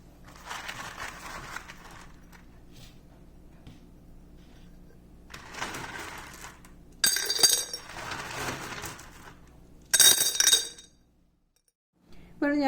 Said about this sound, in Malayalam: നമുക്ക് ഇതിലേക്ക് കുറച്ച് പെബിൾസാണ് ഞാൻ ഇട്ട് കൊടുക്കാൻ പോകുന്നത്